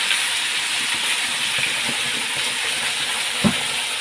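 Spice mix with Kashmiri chilli powder and turmeric hits hot oil with cumin in a pan, a loud, close, steady hiss with a few soft clinks of the spoon.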